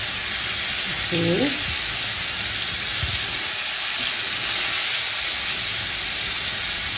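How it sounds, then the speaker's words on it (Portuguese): Meat rolls fry in a hot pan, giving a loud, constant sizzling hiss throughout, with a brief spoken word and a few faint clinks near the start. "E dá uma fritada do outro lado também."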